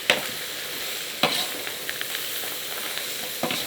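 Shallots frying in a pan for a rustic Isan countryside dish, a steady bright crackling sizzle with a few sharper pops and stirring clicks, close and continuous.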